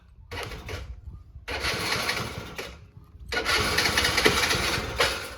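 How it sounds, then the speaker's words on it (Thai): A dirt bike engine cranks in short bursts, catches, then revs up loudly and buzzes steadily, close by. "เวลาสตาร์ตต้องเร่งเครื่องนิดนึงนะครับ"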